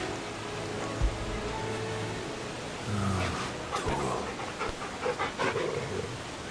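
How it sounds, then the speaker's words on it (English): Dog panting in Final Fantasy XVI, a soft rhythmic breathy huffing of several quick pulses toward the end, over a low steady game ambience with a thump near the start. "Gotta pet the dog."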